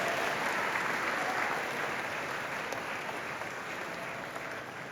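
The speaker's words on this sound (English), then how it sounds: "Round of applause." An audience at a school career day keynote applauds the introduction of the speaker, a steady, even wash of many hands clapping at a distance, continuous and moderately loud with no voices standing out.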